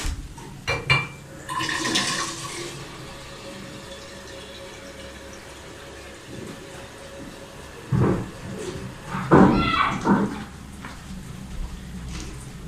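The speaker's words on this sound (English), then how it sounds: "So pour the water in the pot." Water is poured into a cooking pot in a short gush early on, then a longer, louder sloshing pour in later bursts, with quieter handling noise between.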